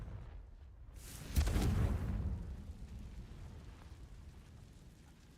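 A Confringo spell explosion in a wizarding video game, one sudden booming blast after a quiet moment, loud and close, decaying into a long rumbling tail.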